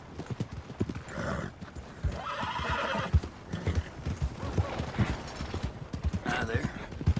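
Hoofbeats clip-clop as a horse gallops in Red Dead Redemption 2, with whinnies and neighs over the steady trotting and voices talking in the middle.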